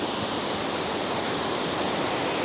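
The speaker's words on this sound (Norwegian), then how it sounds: "Vi ser at det renner en elv under broen." A river rushing under a footbridge, fed by a mountain waterfall, on a forest hike by Nærøyfjorden in Norway; a steady, loud, broadband roar of water fills the whole stretch without pause.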